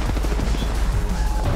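Rapid, dense gunfire from an online shooter game fills the whole short stretch, a close, loud barrage of overlapping shots with no clear gaps and no voice on top.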